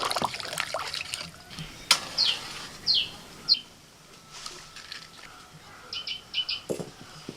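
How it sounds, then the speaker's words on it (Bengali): Water poured into a pan of potatoes sautéed with spices, a brief liquid splash and trickle near the pan, with sharp bird chirps sounding through the background. "এবার জল দিয়ে দিচ্ছি।"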